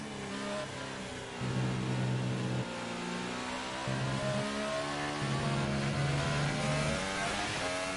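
Formula 1 car engine in F1 2018 racing game, screaming under full throttle uphill with quick gear changes, each upshift dropping the pitch before it climbs again; loud, close, and without voices.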